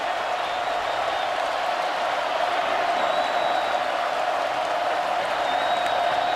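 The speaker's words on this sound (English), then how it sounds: "he gets a big round of applause from the Alabama fans, too" Alabama Crimson Tide fans applauding in a college football stadium during the Auburn game, a broad, steady wash of crowd clapping with faint cheering, sustained throughout.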